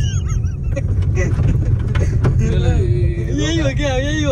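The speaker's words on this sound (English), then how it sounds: "it doesn't matter the sound of bird" Birds call along Australia's Great Ocean Road, a series of warbling, rising and falling cries that grow clearer in the second half over a steady low rumble of road noise from a moving car.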